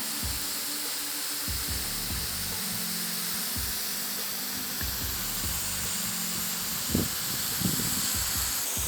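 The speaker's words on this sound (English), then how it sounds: "you can see that sprinkler is shooting up a lot better" A steady broadband hiss of water spraying from a sprinkler continues throughout, with faint mechanical ticking and a couple of soft knocks.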